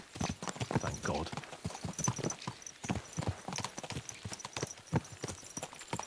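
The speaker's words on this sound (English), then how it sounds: "Let's really spur these horses on, eh?" Horses' hooves clip-clop steadily at a quick pace in the medieval game Kingdom Come: Deliverance 2, a dense rhythmic patter of several animals close by, with faint ambient sound around them.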